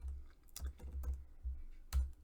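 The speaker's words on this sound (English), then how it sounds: "you can type in anything you want" Keystrokes on a computer keyboard while tagging entries in a book catalog, a run of soft clicks with a louder tap near the end, close up over low room hum.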